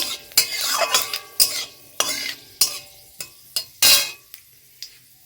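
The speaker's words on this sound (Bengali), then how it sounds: "কড়াইতে দেখো তেল দিয়ে দিয়েছি আবার, আর অল্প 5 ফোড়ন দিয়ে দিলাম" Five-spice seeds temper in hot oil in a kadai, a soft sizzle broken by about a dozen sharp metal scrapes and clinks of a spatula stirring against the pan.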